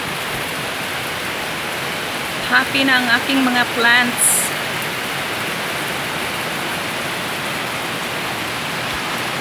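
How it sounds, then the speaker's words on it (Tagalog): Heavy rain pours in a steady, dense hiss that runs unbroken from start to end, with a voice speaking briefly near the middle over it. "Very heavy rain."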